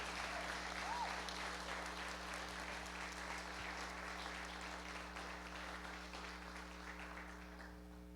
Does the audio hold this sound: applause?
yes